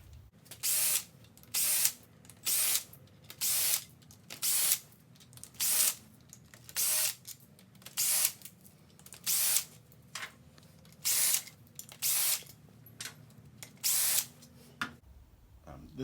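Power tool backing out motorcycle clutch cover bolts, a series of about a dozen short, evenly spaced high-pitched whirring bursts separated by brief pauses, close and moderately loud.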